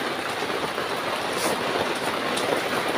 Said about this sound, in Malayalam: മഴ ചെയ്യുന്നുണ്ട് കേട്ടോ.